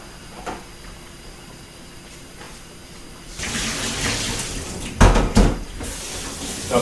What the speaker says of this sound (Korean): 자, 배추를 찬물에 헹궜습니다.